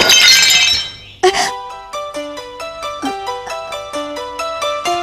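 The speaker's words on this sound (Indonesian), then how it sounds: "Potnya pecah ya." A ceramic flower pot breaks at the start with a bright crashing burst of shattering pieces, then a short impact, followed by a steady, repeating melodic tone pattern like background music chiming in a rhythmic sequence.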